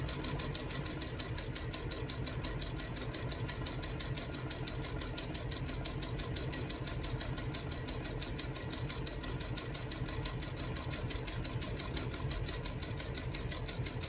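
Sewing machine running fast with a dense, rapid, steady needle rhythm, continuous and fairly quiet, close by with no talking.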